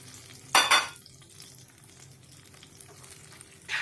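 A hot tempering hits coconut chutney with a sharp, loud sizzling burst that fades quickly, followed by quiet crackle and a faint spatter near the end.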